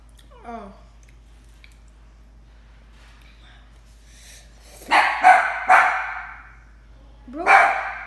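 A dog barks in a home, a short yip early on and then a burst of several loud, close barks, followed after a pause by one more sharp bark.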